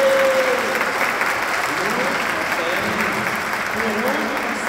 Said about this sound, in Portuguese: vamos dar uma salva de palmas para as crianças